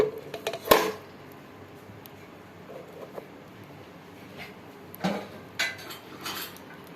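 Metal cake tin set down on a stand inside a preheated pressure cooker, a sharp metallic clank, then quieter knocks and scrapes of metal against metal in a quiet kitchen.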